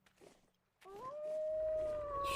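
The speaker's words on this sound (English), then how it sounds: "I heard it growl, not just howl." Wolf-like creature in a video game letting out a long rising howl that swells and holds steady, loud and close after a brief rustle.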